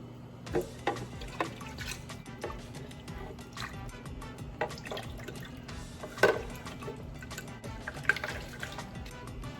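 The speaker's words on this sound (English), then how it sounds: "I'm gonna ladle some of this in here, swish it around and pour it out." Chicken tortilla soup sloshing and splashing inside a blender pitcher, swished around and poured out over the blade, with drips, pours, and the odd clink against the container.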